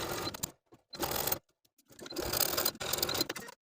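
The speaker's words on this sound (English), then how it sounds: "take it back to the sewing machine and sew close to this inner folded edge all the way around" A sewing machine stitches close to the inner folded edge of a lace dress sleeve's binding, running in short, close bursts separated by brief pauses.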